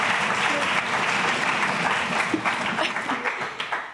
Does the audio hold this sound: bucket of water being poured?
no